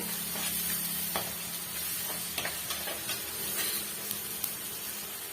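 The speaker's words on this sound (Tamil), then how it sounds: "வெங்காயம் வதக்கும் போது இது மாதிரி சால்ட்டு சேர்த்துக்கிட்டோம்னா டக்குன்னு வந்து நல்லா வதங்கி வரும்" Onions and green chillies sizzle steadily in hot oil after salt is added for a Tamil snake gourd poriyal, with a constant frying hiss and occasional soft stirring clinks and pops.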